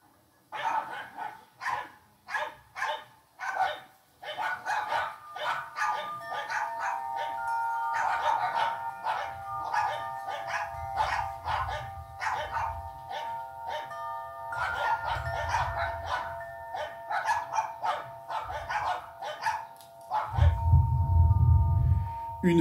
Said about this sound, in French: se jetant à quatre pattes au sol, elle se mit à aboyer ainsi que ses amis